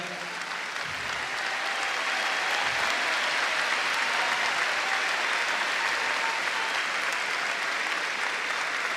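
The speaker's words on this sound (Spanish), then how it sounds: "ahí está Margarita, el aplauso para ella" Sustained crowd applause at a campaign closing rally in Argentina, greeting Margarita Stolbizer; broad, dense clapping fills the whole stretch at steady loudness, with faint voices underneath.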